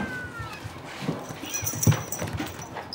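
Hungry cats meowing at feeding time in a Japanese cat cafe, several short overlapping mews and cries close by over a busy room background.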